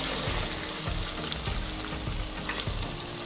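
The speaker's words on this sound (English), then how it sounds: "So I'm now adding in my meat," Loud frying and sizzling of boiled meat added to a pot with tomato paste, wet, bubbling texture and several dull knocks of stirring, close and continuous.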